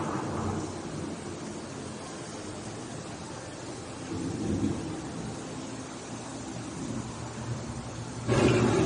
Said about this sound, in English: The approaching storm may seem violent and destructive to us, but to nature, it's a new beginning in the cycle of life.